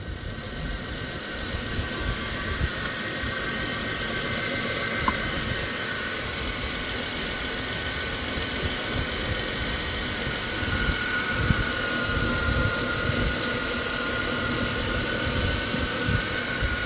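A 2000 Chrysler Grand Voyager SE engine idles roughly and misfires, a close, steady mid-pitched rumble with uneven pulsing and a few small stumbles throughout.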